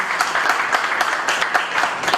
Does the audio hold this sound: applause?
yes